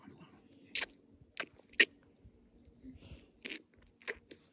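A goat on a rainy-day homestead chews and crunches food in a series of crisp, scattered bites, close and quiet, with no speech over them.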